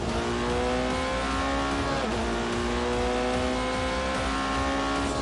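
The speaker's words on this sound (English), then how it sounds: "Soon, the McLaren and the Porsche were ready for some shakedown laps." A McLaren and a Porsche driven on shakedown laps in The Grand Tour Game: a loud, steady, close engine drone with strong harmonic whine, a brief pitch dip and recovery midway, no talking.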